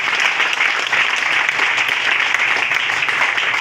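A church congregation applauding for Jesus, a dense, steady wash of many hands clapping close and loud, unbroken for the whole stretch.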